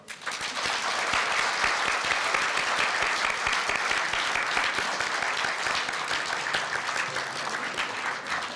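An anniversary ceremony audience breaks into sustained, dense applause as the cake is cut, many hands clapping steadily and loudly for several seconds before tapering slightly.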